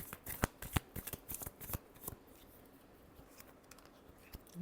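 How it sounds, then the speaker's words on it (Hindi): Tarot cards being shuffled by hand close up, with quick bursts of riffling slaps and soft papery patter. The shuffling sounds fade into faint rustling before a last flurry. "Last shuffle."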